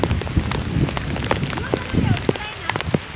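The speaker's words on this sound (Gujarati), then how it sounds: "જો ખાલી પવન સાથે જો વરસાદ ચાલુ" Rain falls steadily with gusting wind during a storm, a dense broadband wash with scattered drop hits, while a person talks over it close by.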